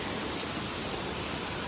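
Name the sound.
heavy rain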